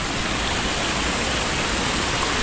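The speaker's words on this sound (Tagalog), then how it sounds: "Nalakas pa ng tubig oh." Strong rushing water flows outdoors near a bamboo shelter site, a loud, dense, steady roar with no pauses or other sounds.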